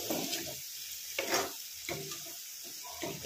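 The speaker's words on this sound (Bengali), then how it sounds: "তো যথারীতি আমি একটু সামান্য জল দিয়ে দিচ্ছি, আমাকে দেখো তলাটায় লেগে যাচ্ছে।" A little water poured into a pan of sizzling turmeric mixture that is catching on the bottom, giving soft bursts of hissing frying noise with quiet gaps between them, all without speech.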